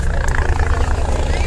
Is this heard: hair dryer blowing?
no